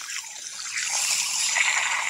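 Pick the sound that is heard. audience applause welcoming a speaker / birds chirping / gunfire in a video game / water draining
water draining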